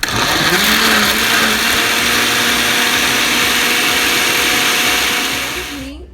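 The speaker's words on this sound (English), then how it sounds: "I'm gonna add some salt and I'm going to blend" A blender whirs loudly and continuously while blending chiles with salt for Mexican enchiladas, holding a steady high motor whine before winding down at the end.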